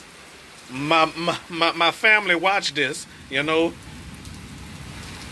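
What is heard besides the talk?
rain falling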